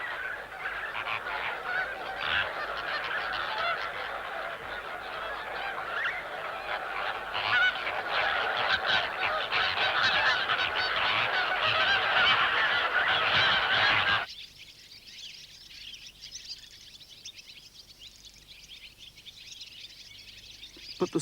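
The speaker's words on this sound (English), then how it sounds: "huge flocks of flamingos" Huge flocks of flamingos call together, a dense, loud chorus of honking that carries steadily over a wide area, then cuts off abruptly, leaving only quiet background.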